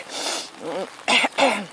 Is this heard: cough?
yes